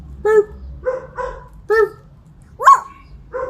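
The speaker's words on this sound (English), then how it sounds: "he wakes us up every morning barking" A dog barks sharply several times in short, separate bursts, one a higher yelp, close and loud against a quiet background.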